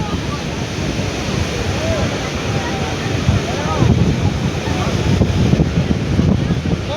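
Big ocean waves at the seashore behind a temple at Dwarka, with gusting wind buffeting the microphone; a constant roaring wash swelling louder in the second half, with voices faintly mixed in.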